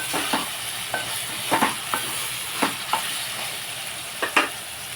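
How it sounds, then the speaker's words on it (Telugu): Brinjal curry with raw mango pieces stirred in a frying pan: a steady sizzle runs throughout while a spoon scrapes and knocks against the pan in irregular strokes, close and moderately loud, with no talking. "ఇది మగ్గిన తర్వాత మామిడి కుంపలు కలుపుకొని"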